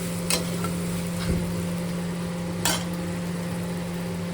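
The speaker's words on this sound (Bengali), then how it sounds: "মশলাটা ভালো করে কষিয়ে নিচ্ছি" A spice paste with onion, tomato and green chilli fries in a pan while being stirred, a faint steady sizzle under a constant hum, with a few brief spoon scrapes against the pan.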